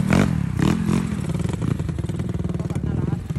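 Motorcycle engine at a drag race between a carbureted Raider 150 and a Mio 160cc with a 62mm block, revving with a pulsing, buzzy mid-pitched note, close and loud, mixed with people talking.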